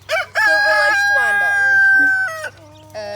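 A silver laced Wyandotte rooster crows loudly and close by in one long cock-a-doodle-doo. A brief squawk comes before it and a short cluck follows.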